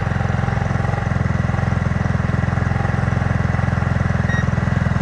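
A GY6 scooter engine idles close by with a steady, even, rapid putter that holds unchanged throughout.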